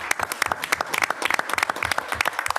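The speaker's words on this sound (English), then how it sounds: "So let's give them a round of applause." Applause from an audience at a county board of education meeting, a short burst of scattered individual claps from a modest crowd, fairly close and distinct.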